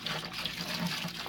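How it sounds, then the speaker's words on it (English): Distilled water poured into a vessel for brewing mead, a short steady splashing trickle heard close and fairly quiet. "So what we're going to do first is add some distilled water."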